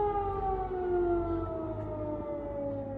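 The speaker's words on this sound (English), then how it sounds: "So our area is now having sirens" Civil defense air raid siren sounding in Ukraine, a loud steady wail with a slowly falling pitch that carries on without pause, no voices.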